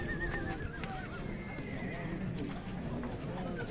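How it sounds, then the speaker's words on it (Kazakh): A horse whinnies at the Sokuluk livestock market near Bishkek, a few neighs and hoof clops rising over steady crowd chatter and market noise, with people talking nearby. "Мына да бир токлуу ат турат."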